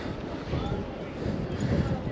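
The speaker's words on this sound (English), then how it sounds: "windy up here" Wind buffets the microphone high on the Duomo in Florence in the rain, a rough low rumble that swells and fades in gusts, with a person talking briefly underneath.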